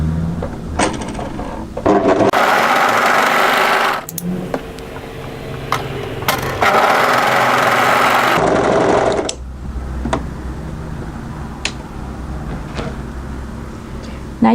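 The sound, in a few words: overlocker sewing the short ends of cuff pieces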